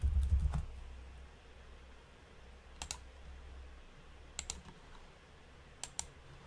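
Computer keyboard typing and mouse clicks at a desk, quiet and close: a short burst of keystrokes at the start, then sparse isolated clicks spaced a second or so apart, with no voices.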